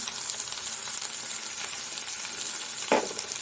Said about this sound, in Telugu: పచ్చిమిరపకాయలు, కరివేపాకు, వేసిన గుళ్ళని యాడ్ చేసుకుని బాగా కలుపుకొని ఫ్రై అవ్వాలి.